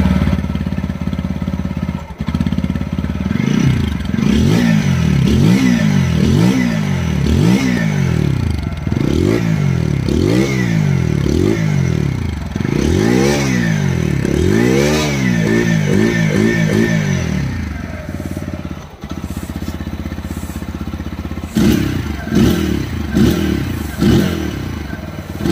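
TVS Apache RTR 160 4V BS6 motorcycle exhaust revved repeatedly in loud, rising and falling bursts for about fifteen seconds, then settling to idle with a few short blips near the end.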